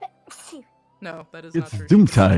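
A single sudden sneeze bursts out briefly at the start during an online tabletop role-playing game session, followed by several people talking over one another.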